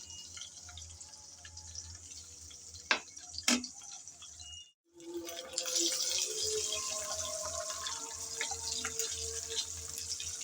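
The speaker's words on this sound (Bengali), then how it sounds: "এখন সেই হালকা গরম তেলে দিয়ে দিলাম ডিমগুলো। প্রথমে আমি ডিমগুলো ভেজে নেব।" Eggs go into lightly heated oil in a pan and set off a faint, steady hiss of frying, preceded by a few soft clinks and handling sounds.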